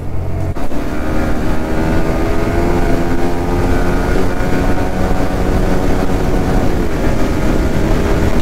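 Motorcycles, including an R15, a Duke and an RC, roar through a roadside drag race in a loud, continuous engine drone that holds steady throughout, heard close with heavy wind rush and no talk.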